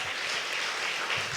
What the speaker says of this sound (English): can I give my sister a lovely round of applause for who's here today?